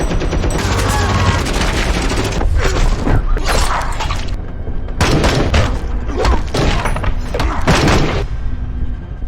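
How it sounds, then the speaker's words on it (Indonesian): A gun battle in an action film: loud bursts of gunfire and impacts come in several clustered volleys, with short lulls between them. "mulai menyerang Jack hingga terjadi lagi aksi tembak-tembakan"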